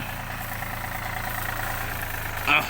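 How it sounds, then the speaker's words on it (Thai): An e-tok, a Thai farm utility vehicle, has its engine running steadily in Phu Sang, Phayao, with a continuous low idling drone throughout and a brief louder burst near the end. "เจอรถนี่รถอีต๊อกครับตั้งเหนเลยว่ารถอีต๊อกนะครับ"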